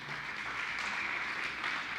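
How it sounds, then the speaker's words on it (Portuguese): A church congregation claps together in a dense, even burst of applause that lasts about two seconds. "Dá um aplauso aí."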